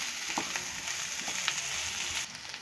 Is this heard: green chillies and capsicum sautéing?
yes